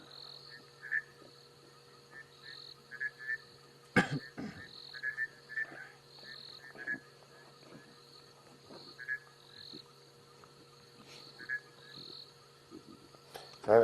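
Bushveld rain frogs call at night in the African bush during a safari drive, with short repeated croaking notes scattered over a steady insect drone. A sharp knock and a few faint rustles break the calls.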